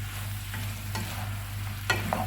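Fried Chicken 65 being stirred in a pan, with a steady low sizzle and a few scraping spatula strokes near the end.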